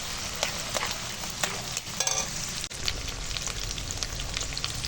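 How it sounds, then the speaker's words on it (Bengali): Cashews and raisins sizzle lightly in oil in a wok, a constant crackling hiss with scattered scraping stirs and a sharp clunk partway through. "আর এখানে আছে কাজু কিশমিশ দিয়ে দিলাম, দিয়ে হালকা ভেজে নেব"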